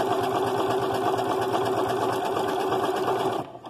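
Janome sewing machine stitching a one-step buttonhole with the buttonhole foot, a steady close whirring, rapid needle rattle running continuously before cutting off abruptly near the end.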